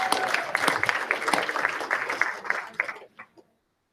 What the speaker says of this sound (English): So, Jeff, give them a round of applause,